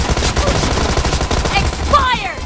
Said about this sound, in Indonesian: Sebelum lupa emosi, akan kita tembak kepala mu